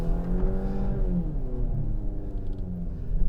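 A 2022 Jeep Compass engine strains loudly in deep winter snow as its wheels spin, a close, sustained droning rumble whose pitch wavers and climbs slightly without letting up.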